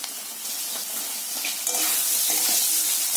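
Diced potatoes frying in a pan with a little salt and turmeric give off a bright, steady hiss that builds slightly louder toward the end, with light scraping and clatter over it and no voices.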